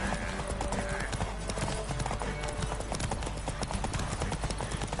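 Rapid clip-clop of a horse's hooves galloping through The Witcher 3, a steady drumming rhythm mixed with game music and ambience, with a brief whinny-like tone blended in.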